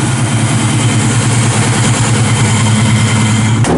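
A 1969 Chevrolet Camaro Z28 with a 4-speed, headers and dual exhaust idles steadily up close, its deep, even exhaust burble running throughout with no talk.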